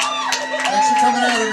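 Live bar crowd at the close of a night's performance, cheering, whooping and clapping in a dense continuous wash, with a voice carrying over the noise.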